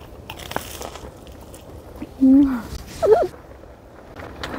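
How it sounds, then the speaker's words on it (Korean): Cheese warmed in an oven is eaten at a winter car-camping spot, with a couple of close, brief crunchy bites and some soft chewing over faint background noise. "치즈 먼저 먹어보겠습니다"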